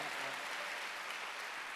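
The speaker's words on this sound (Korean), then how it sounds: "박수를 한번 주세요" Church congregation at a Wednesday worship service clapping together, a steady wash of dense applause at moderate volume, heard alone without talk.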